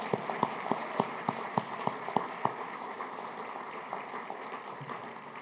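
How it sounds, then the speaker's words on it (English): Sparse applause from a small ceremony audience, a handful of distinct claps at first that thin out and fade into room noise, heard from a distance. "Let's give them another round of applause"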